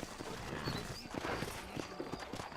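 Horses' hooves clip-clop in Red Dead Redemption, a rapid uneven patter of hoof falls on a dirt town road in the Old West setting, moderately close under a busy background, with no talking.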